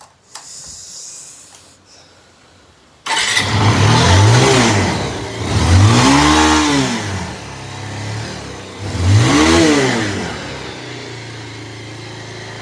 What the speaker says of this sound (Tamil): அதெல்லாம் ஒழுங்காக ஸ்டார்ட் ஆகுதுங்க ஸ்டார்ட் அடித்த உடனே ஸ்டார்ட் ஆகிட்டேன் பார்த்தீங்களா